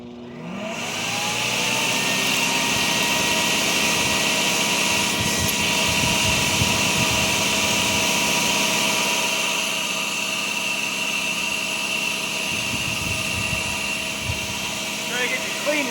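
Portland electric chipper shredder from Harbor Freight chipping cedar boughs, a loud continuous motor whine with rough grinding bursts as branches feed through, running steadily.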